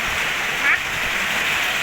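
Rain falls steadily around a house, making a dense, even hiss that stays loud and unbroken throughout.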